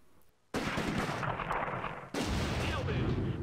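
Two heavy bazooka blasts fired at a German Mark IV tank in a Close Combat wargame battle, each a sudden loud boom with a sustained rumbling roar after it, the second following about a second and a half after the first.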